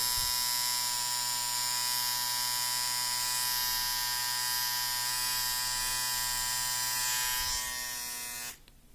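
A cordless rechargeable electric shaver with an aluminium body buzzes steadily and loudly up close, a constant high-pitched hum that holds for several seconds before cutting off abruptly near the end.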